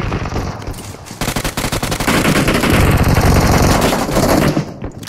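Dense bursts of rapid automatic gunfire from PUBG Mobile on Nimbus Island, loud and close, with rattling volleys merging into a continuous barrage before cutting off.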